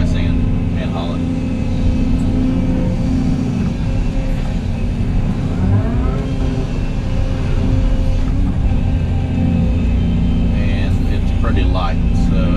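Truck engine droning steadily while hauling a light load of dry sand, a constant close rumble throughout with someone talking over it.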